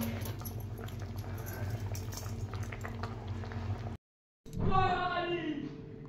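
A curry of kochu stems and garlic simmers in a pot, giving a steady low bubbling and popping. After a short silence, someone speaks over the boil.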